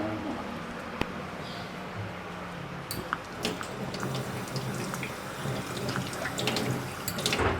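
A tap in a home kitchen runs steadily, a continuous close rush of water with occasional small clinks and splashes mixed in throughout.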